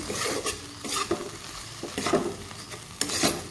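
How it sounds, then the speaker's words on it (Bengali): Egg frying with onion in a pan for a stuffed egg paratha, a steady sizzle with repeated scraping stirs and a few clinks of utensil against the pan, close and moderately loud. "একটু ভাজা ভাজা করে নেব"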